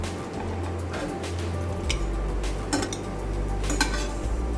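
Fried brinjals being scooped from a pan onto a plate with a ladle, giving a few sharp metallic clinks and scrapes over a steady low hum, close and moderately loud.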